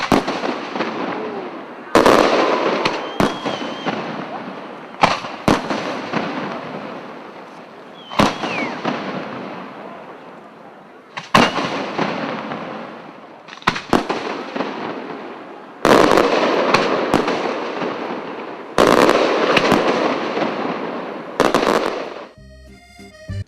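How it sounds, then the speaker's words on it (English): Fireworks burst over the Moselle River, seen from aboard a river cruise boat: a series of sharp loud booms every few seconds, each trailing off into a crackling, fading rumble, with no talking. "The Moselle River reflects the start of a spectacular fireworks displays"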